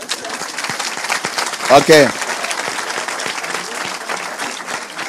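An audience applauds steadily in a large room, dense clapping throughout, with a voice speaking briefly over the applause midway.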